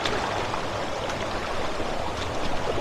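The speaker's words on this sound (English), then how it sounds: "And it trickles down" A clear stream trickles down rock into a small pool. The rushing, hissing water flow is close and continuous, steady throughout with no voices.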